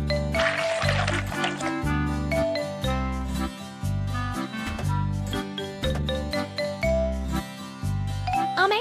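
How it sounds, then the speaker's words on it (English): A cartoon engine-repair scene plays a bright, splashy pouring effect of coolant at the start, set over a bouncy, tinkling children's tune with a thumping bass line that continues throughout. "Pour the coolant."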